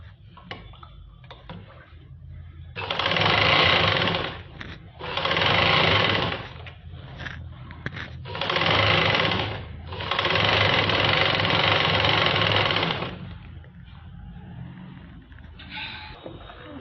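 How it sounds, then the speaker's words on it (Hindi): Sewing machine stitching a top seam on palazzo pants, four loud bursts of rapid, even mechanical whirring separated by short pauses, with quiet handling clicks between. "आसन पे टॉप सीम चला रहे हैं।"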